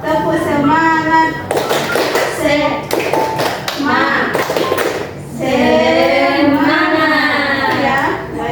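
Students in a classroom perform the tepuk semangat chant, with sharp bursts of rhythmic hand claps interleaved with voices chanting in unison, loud and close across the whole stretch.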